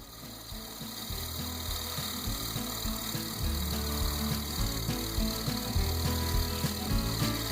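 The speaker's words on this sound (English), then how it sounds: "Here I start trimming up the inside of the bowl." A woodturning tool trims the inside of a black cherry bowl spinning on a lathe, making a continuous close scraping, shaving hiss over the steady hum of the machine, with a rhythmic pulsing of cuts.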